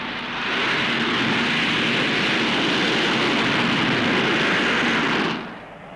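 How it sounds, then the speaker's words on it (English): Jet engine roar from an experimental VTOL aircraft with inclinable lifting jets at the Farnborough Airshow, a loud sustained broadband rush that holds steady for several seconds and then drops off sharply near the end. "The lifting jets can also be inclined to give a forward thrust or directed forwards to act as a brake."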